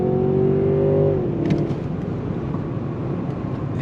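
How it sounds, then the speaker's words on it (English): A 2022 Mercedes-Benz S580 pulling away hard from a dead stop, its engine note loud and close, rising in pitch then dropping at a shift into a steady, rushing roar, with no talking. "Once again from a dead stop. On throttle, here we go."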